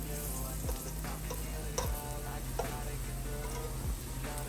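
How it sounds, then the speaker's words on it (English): One-banana fritters fry in a pan with a soft, continuous sizzle, punctuated by a few light scraping or clinking touches; close but fairly quiet, with a faint background hum. "We're just gonna fry this for about 1 more minute."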